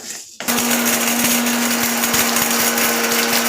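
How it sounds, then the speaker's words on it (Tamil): A kitchen mixer grinder starts abruptly and runs at a steady loud whine, grinding onion, tomato, garlic, curry leaves and coconut with a constant hum and faint rhythmic rattling, alone throughout. "வெங்காயம் பொடி, வெங்காயம், ஒரு தக்காளி, கொஞ்சம் பூண்டு, கொஞ்சம் கருவேப்பிலை, தேங்காய், இதை மிக்சியில் போட்டு அரைச்சி"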